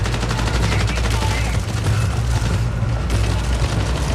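Gunfire in the extraction shooter video game Marathon comes as a dense, loud stream of rapid repeating shots with booming low thumps, sustained and close throughout.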